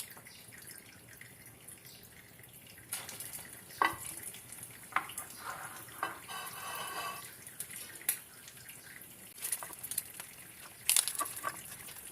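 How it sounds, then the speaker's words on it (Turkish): Soft sizzling and crackling from a pan of egg-dipped stuffed food frying, with occasional clinks and stirring sounds, fairly quiet and continuous. "Şimdi artık arkalı önünü kızartıyorum."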